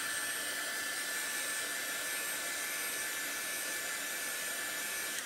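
A hair dryer blows steadily on fresh chalk paint, a loud continuous broadband whoosh that holds at the same level for the full stretch with no talking.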